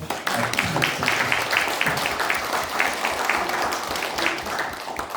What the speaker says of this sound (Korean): 선생님께 큰 박수를 주셔서